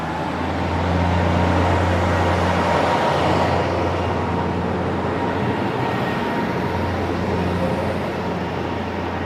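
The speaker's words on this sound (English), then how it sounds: "let's say goodbye to this iconic rural-looking diesel train" A rural diesel train pulls away from a station near Nagoya, its engine rumbling loud and close with a steady low drone that swells slightly and then settles as it moves off.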